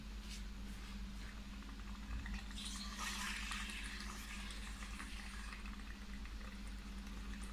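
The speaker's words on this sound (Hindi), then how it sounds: "इसके अंदर पानी डालना थोड़ा सा" Water pours into a cooking pot of beef nihari with a steady rushing splash that swells in the middle, over a faint low hum from the kitchen.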